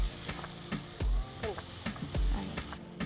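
Sliced onions and garlic, with turmeric and spices, fry in a pan while being stirred: a constant loud sizzle broken by rhythmic spatula scrapes and knocks, close by.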